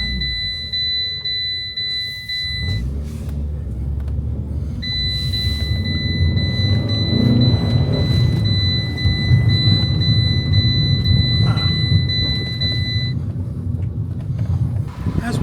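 A crash-damaged car bought from Copart runs with its engine idling in a low, steady rumble close by, while a high-pitched electronic warning tone beeps on and off over it.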